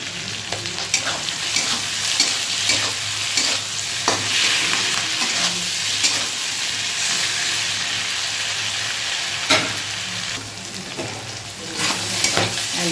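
Fish oil and fish bladder fry in a pan, with dense steady sizzling, frequent sharp crackles and pops, and sounds of stirring, all close and loud. No voices are heard.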